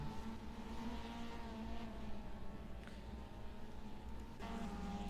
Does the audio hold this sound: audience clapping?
no